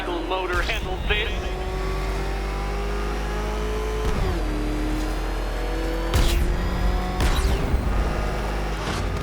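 Batmobile engine in the video game Batman Arkham Knight revving loudly, with rising and falling surges and sharp bursts over a continuous low rumble.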